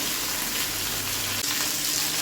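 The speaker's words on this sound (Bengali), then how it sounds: "মাছটা এখন আমি হালকা ভেজে নেব" Datina coral sea fish, turmeric-rubbed, fries lightly in oil with a dense, steady close-up sizzle and no voices.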